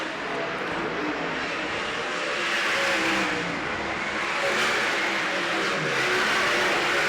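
Sprint cars racing at Baypark Speedway, a dirt oval, give a steady broad engine roar that swells and fades slightly as the field circles, heard from a distance with no close voices.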